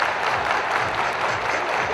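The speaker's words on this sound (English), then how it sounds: "Clap your hands, clap your hands." A crowd of fans claps together in a dense, continuous patter, loud and close, with no speech over it.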